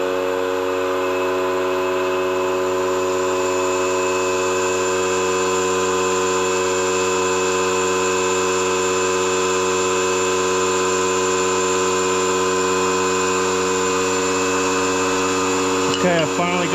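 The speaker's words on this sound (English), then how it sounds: "The compressor's running." An air compressor runs continuously with a loud, steady whining hum of layered tones, unchanging throughout, then a brief rattle right at the end.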